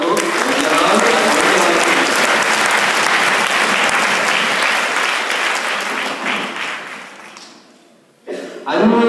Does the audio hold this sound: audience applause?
yes